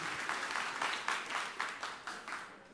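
A church audience at a Christmas Eve service claps, a soft, somewhat distant round of applause with repeated swells that fades over about three seconds.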